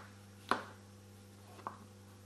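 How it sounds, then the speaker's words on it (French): Two crisp knife cuts through peeled mushrooms on a cutting board, slicing them into thin strips, spaced about a second apart over a quiet steady hum. "Les champignons épluchés, on va les émincer en lamelles."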